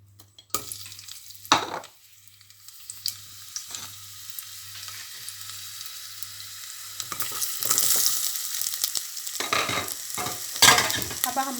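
Chopped onions frying in a little olive oil for an aloo lobia masala, with a steady sizzle broken by several sharp stirring scrapes and clatters from the pan, close and fairly loud.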